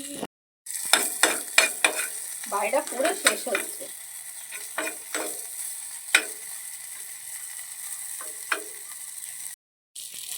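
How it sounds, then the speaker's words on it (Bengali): Small prawns frying in a pan, with a steady sizzle broken by sharp spatula clicks and scrapes in quick succession, a brief spoken phrase partway through and short silent gaps at the start and end. "তো দেখো এখন আমি চিংড়ি মাছ ভাজা করছি ছোটো ছোটো অল্প অল্প চিংড়ি"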